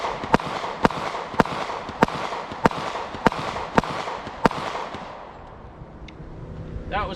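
Nine sharp pistol shots from a .40 caliber Smith & Wesson handgun ring out at an even, deliberate pace, loud and close, then stop, leaving quiet range ambience.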